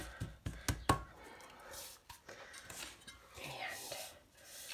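A utensil spreads a coconut upside-down cake topping across the bottom of a baking pan, starting with a few quick metallic clinks and then a faint, soft scraping.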